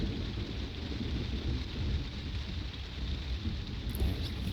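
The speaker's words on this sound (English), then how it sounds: "There's the thunder." A thunderstorm with steady heavy rain and a continuous low rumble of thunder beneath it, dense and unbroken throughout, no voices.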